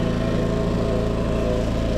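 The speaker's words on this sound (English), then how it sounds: "I don't have power down here, so I have to use my little generator" A small portable generator runs loudly and close by at a steady idle, its even engine drone and low throbbing hum unbroken throughout, with no voices over it.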